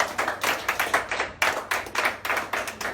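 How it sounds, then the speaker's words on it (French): A church congregation at a Sunday service in Baltimore claps in a steady, brisk rhythm, many hands together, loud and close, with no talking over it. "Acclamez fortement pour Seigneur."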